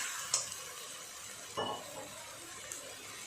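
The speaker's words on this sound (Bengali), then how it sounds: "পেঁয়াজ আদা রসুন সুন্দরভাবে ভাজা হয়ে গেছে। এর মধ্যে দিয়ে দেব সমস্ত মশলা।" Onion, ginger and garlic sizzling steadily in hot oil in a pan as spices go in, with a few sharp scrape and clink sounds from stirring.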